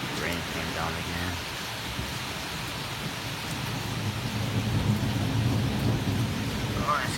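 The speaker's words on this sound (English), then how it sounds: "Rain came down again." A heavy thunderstorm outdoors: steady downpour of rain hissing on surfaces, with low rolling thunder rumbling and building in the second half, and faint human voices in the mix.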